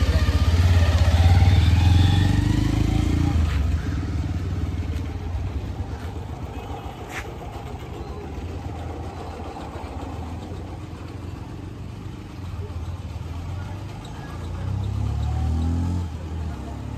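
Bajaj Pulsar motorcycle engine running on a test ride outside a showroom, a steady mid-pitched drone that is loudest at the start, dips and then swells again near the end, with faint background noise.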